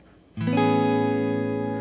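A Telecaster played on its neck pickup with a dry tone and light delay and reverb: one chord is struck after a brief quiet moment, then rings out steadily and evenly, bright and sustained, with no voices.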